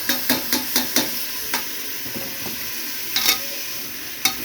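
A spoon stirring tomatoes, mint and coriander in a hot pan, with a quick run of evenly spaced scraping taps, then slower, sporadic strokes over a constant sizzle.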